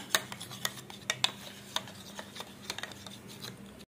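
Egg white and lemon juice are beaten together in a bowl, giving quiet, irregular clicks and taps of a utensil against the bowl's sides with soft swishing between strikes.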